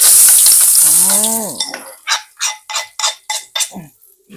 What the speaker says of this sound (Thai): ตอนนี้น้ำมันเดือดแล้วเอาลงกันเลย